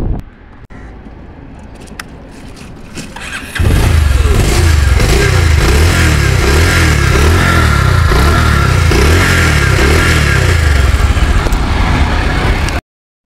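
A used Bajaj Pulsar motorcycle engine close by, idling briefly before roaring to life and running loudly with a pulsing, throbbing rumble until it cuts off.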